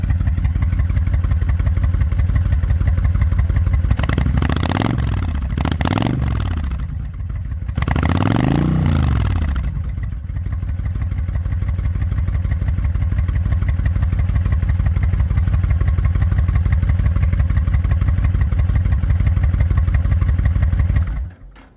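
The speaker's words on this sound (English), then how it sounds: "I'll go ahead and rev it a little bit." A 2007 Honda VTX motorcycle engine runs close by at a steady idle, then revs up sharply in a few quick blips around the middle before settling back to a loud, even idle.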